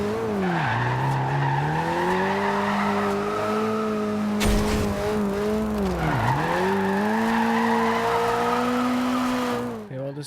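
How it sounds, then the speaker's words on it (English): A car in Forza Horizon 2 spinning its wheels and sliding, with a continuous loud engine whine and squealing tires that dip and rise in pitch twice, ending abruptly near the close. "This car does like to slide, or it likes to spin its wheels, not so much slide."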